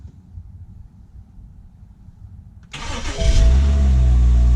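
A car engine on a salvage-auction rebuild project starting up: a low background hum gives way to the starter cranking, then the engine catches and is revved loudly and steadily, close by.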